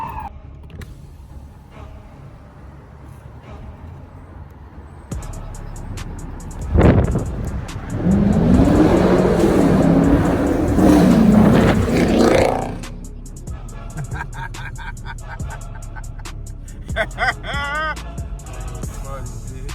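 The 345 Hemi V8 in a 2016 Dodge Charger R/T starts and revs, building to a loud, sustained roar that falls back to a rumbling idle amid ambient clatter.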